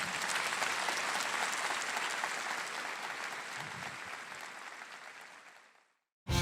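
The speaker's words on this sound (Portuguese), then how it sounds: "Vamos aplaudir Jesus." Church congregation clapping in a full, dense burst that holds steady, then gradually thins and fades out to near silence before a sudden cut at the end.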